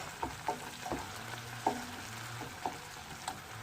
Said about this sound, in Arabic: هوني بدات الطماطم وكل الثوم يتقلاو